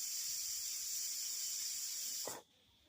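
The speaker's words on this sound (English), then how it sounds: "so I release this steam" Steam from a pot of Jamaican stew peas being released: a loud, steady, close hiss that holds for over two seconds, then cuts off abruptly into near quiet.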